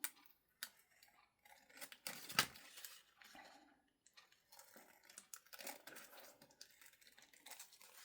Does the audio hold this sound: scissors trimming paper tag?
yes